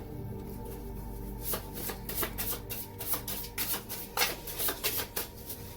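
Message cards being shuffled, a rapid rustling and flicking that comes in quick bursts, close and fairly quiet, with no talk.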